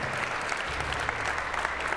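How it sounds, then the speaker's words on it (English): Concert audience clapping for a trombonist, a continuous dense burst of applause from a full hall, steady and fairly loud, with faint low sustained tones from the stage beneath it. "One more big round of applause."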